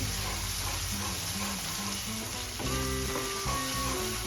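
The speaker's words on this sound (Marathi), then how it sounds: "आता आपल्याला कोथिंबीर छान मिक्स करून घ्यायची आहे" Fresh coriander stirred into sizzling masala for a dry Bombay duck (bombil) curry, a steady loud sizzle running throughout, with faint tonal sounds in the background.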